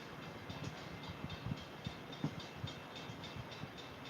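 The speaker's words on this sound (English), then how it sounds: "Some type of late night service train coming here." A late-night railway service train approaches from a distance, a faint steady rumble broken by soft rhythmic clicks and thumps of wheels over rail joints.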